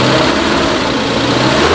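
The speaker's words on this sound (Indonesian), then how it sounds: "Suara stasionernya masih halus." The engine of a 2002 Suzuki Carry Futura van idles smoothly and steadily up close, a constant low hum with no revving.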